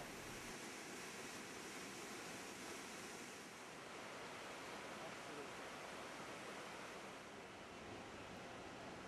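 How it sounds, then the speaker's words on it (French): Ocean waves roar and crash against rocks along the Chilean coast, a steady, dense wash of surf that fills the whole stretch at a constant level with no pauses. "l'eau et les vagues rugissantes se fracassent sur les rochers"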